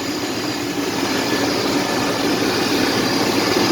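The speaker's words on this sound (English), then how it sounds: "you can hear that LT1 V8" 1995 Chevy Silverado with an LT1 V8 idling, a steady low rumble with an even airy wash over it, heard close and alone at constant level.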